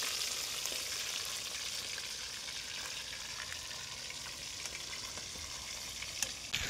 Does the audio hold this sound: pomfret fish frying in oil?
yes